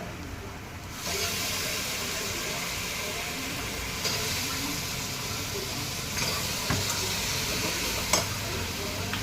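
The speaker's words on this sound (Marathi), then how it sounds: "आता हे मटण छान परतवून घेऊ" Mutton sautés in a pan after onion and chopped fresh coriander went in, giving a close, continuous sizzle with stirring scrapes. A few clicks of utensil against the pan are heard.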